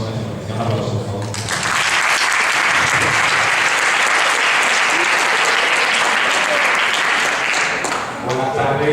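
A lecture audience at a talk on horror cinema and video games breaks into loud, dense applause after a brief spoken introduction, holding steady for several seconds before fading as a speaker begins.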